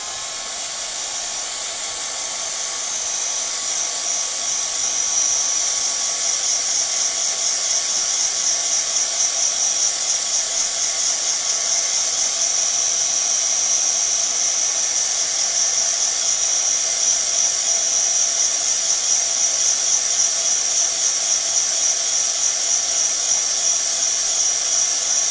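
A heat tool blows hot air over casting resin, giving a loud, steady, high-pitched whirring hiss that holds unchanged throughout with no voices.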